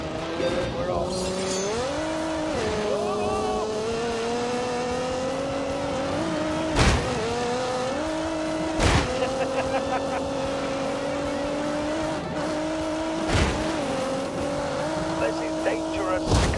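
A turbocharged Ford EcoBoost car tuned to just under 300 brake horsepower drives in The Grand Tour video game, its engine droning steadily and shifting pitch with gear changes, broken by a few sharp thuds and tire squeals, under talk.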